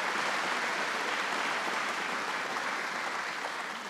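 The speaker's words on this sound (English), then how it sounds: "So we give him a big round of applause." A large audience at a governor's announcement event keeps up a dense, even round of applause, steady and unbroken, fading only slightly at the end.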